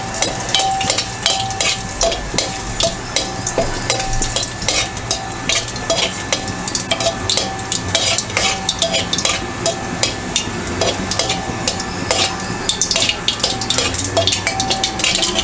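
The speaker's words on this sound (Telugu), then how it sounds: "వెల్లుల్లిపాయలు కొంచెం వేగిన తర్వాత" Garlic cloves fry in a pan for palak dal, a steady sizzle broken by rapid, rhythmic metallic clinks and scrapes of a spoon stirring against the pan, close and sustained with no talk.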